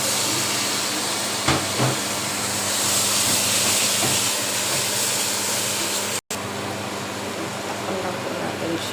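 Chicken pieces sizzling in a hot pan with ginger and garlic for a chicken curry, a steady loud hiss of frying that carries through the whole stretch, with faint kitchen clatter and a short break near the end.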